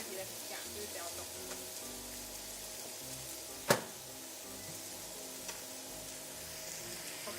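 Chicken pan-frying undisturbed gives a soft, even sizzle with a faint rain-like patter and one sharp tap near the middle, heard alone at low level.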